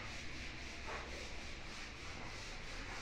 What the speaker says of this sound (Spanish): ya acabamos de lijar todo lo que son esas piezas de esta cama alta